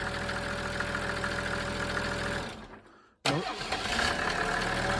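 A Mercedes OM603 diesel engine driving a PN-40 motor pump runs loud and steady, then sinks and dies away into near silence. It restarts abruptly and roars back to a loud, rattly run.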